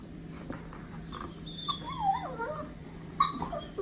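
A puppy whimpers close by in two bouts of high, wavering whines that rise and fall, with a short sharp yelp near the end, over a quiet indoor background.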